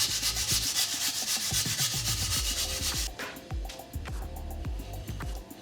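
Steady rasping and scraping as a tool bevels and deburrs the top edge of a bicycle fork steer tube on a Fairdale Goodship build, continuous and close, with a knocking undertone that shifts partway through.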